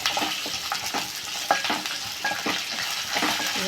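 Tamarind, jaggery and dried red chillies frying in a pan for curry leaf chutney: a steady close sizzle with brisk stirring and occasional clinks, and no voices.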